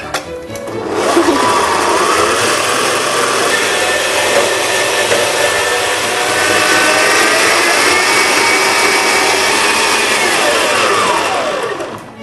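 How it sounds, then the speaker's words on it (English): An electric mixer whisks eggs and sugar for a brownie cake, giving a loud, steady motor whir that runs unbroken for about eleven seconds, with no voices. "Now, sugar, eggs and sugar. I will need to whisk it."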